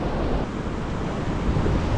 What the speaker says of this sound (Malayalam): അപ്പോൾ നല്ല ഹെവി തിരമാലയൊക്കെ വരുന്നുണ്ട്